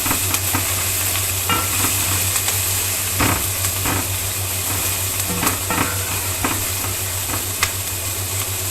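Chopped onions sizzle in hot oil for frying fish, a constant loud crackle with a spoon scraping and stirring the pan at intervals.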